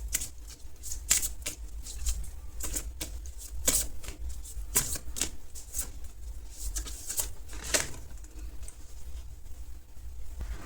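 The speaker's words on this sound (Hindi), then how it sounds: "मैं आज सभी कार्ड्स पहले निकाल लेती हूँ" Tarot cards shuffled by hand: a near, continuous riffle of crisp card slaps and flicks with irregular sharp bursts, no talking.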